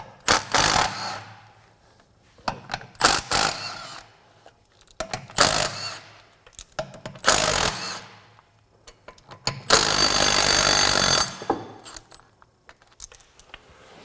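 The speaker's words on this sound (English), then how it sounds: "I'm gonna use an 18mm to take these off." Bolts are taken off the track drive of a Toro Dingo TX 1300 compact utility loader with an 18mm socket, probably on an impact wrench: several short, loud mechanical bursts with pauses between them, ending in one longer sustained run.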